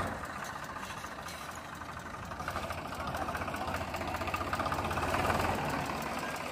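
A Swaraj 735 tractor from the 1990 model year idles with a steady low diesel rumble and faint knocking throughout, rising slightly in the second half and heard alone at moderate distance.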